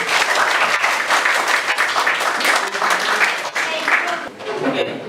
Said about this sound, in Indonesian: kita tepuk tangan untuk Dinda.